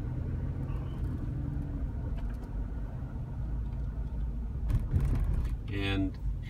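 Lunchtime road traffic outside a busy restaurant, a continuous low rumble of idling and passing cars from close by, with a louder vehicle pass near the end and someone talking over it.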